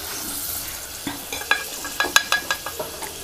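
Raisins frying in hot ghee for a Til Cholli sweet, a steady close sizzle broken by a quick run of sharp scraping stir clicks in the second half.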